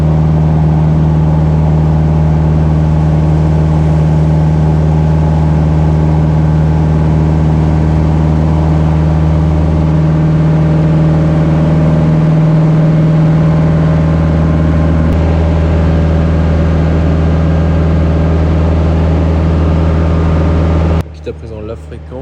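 A light aircraft engine drones loud and steady inside the cockpit during takeoff from runway 35, an unbroken close roar that cuts off abruptly at the end.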